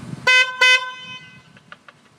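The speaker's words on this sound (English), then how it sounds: "now let's test out the sound of the new horn." Two short, loud blasts from a full blast high tone horn installed on a Can-Am Ryker, sounding close and alone, with a faint clatter trailing afterward.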